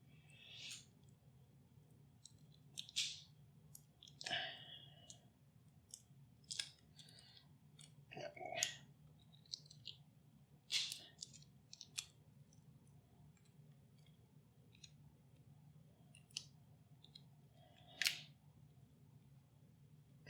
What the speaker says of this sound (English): And this packaging has been a little more challenging than some of the other ones, but we're getting it open.